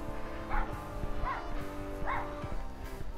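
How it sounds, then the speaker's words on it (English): A dog barks out in the English countryside during a walk, about three or four distant, faint barks at a steady pace over quiet outdoor background. "I can hear a dog barking away"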